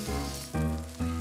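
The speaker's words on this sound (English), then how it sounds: "Look at those Johnny cakes sizzling." Johnny cakes fry in a pan with a quiet, steady sizzle, pulsing in a few short surges over a soft tonal background.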